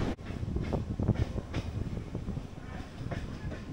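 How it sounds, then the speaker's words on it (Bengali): A Kolkata–Digha local train rolls slowly across the Kolaghat bridge, heard from on board as a steady low rumble with faint wheel clatter and wind noise on the microphone. "এমনি সময় এই কোলাঘাট ব্রিজে ট্রেন ভালো স্পিডে টানে, তবে আজকে তাহলে একটু স্লো কিন্তু এগোচ্ছে"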